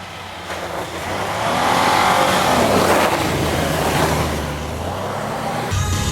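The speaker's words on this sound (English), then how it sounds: "So Josh is gonna film me at a full throttle, stock gearing, drift a lot, Ken Block style." Jeep JK Wrangler on Synergy suspension with stock gearing, driven at full throttle and drifting on a snowy mountain road, with a loud, sustained engine roar that swells and eases, plus tire and road noise, close by.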